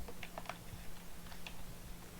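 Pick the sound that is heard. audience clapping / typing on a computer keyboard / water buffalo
typing on a computer keyboard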